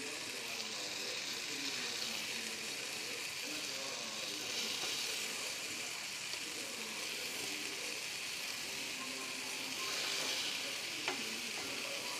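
Egg masala gravy bubbling and sizzling steadily in a pan, with the thickened gravy reducing as the water boils off, producing a continuous close frying hiss with soft stirring sounds throughout.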